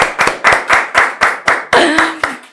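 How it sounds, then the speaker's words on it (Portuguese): An audience claps in applause, about nine sharp, evenly spaced claps that ring close and loud, briefly blending with a short voice near the end. "E palmas para essa mulher e essa história incrível!"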